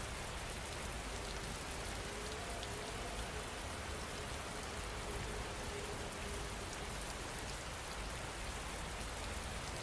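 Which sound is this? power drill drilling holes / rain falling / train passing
rain falling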